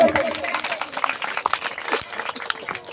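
Loud applause from an audience at a Bengali-language speech event, dense clapping sustained throughout, with crowd noise and some voices mixed in.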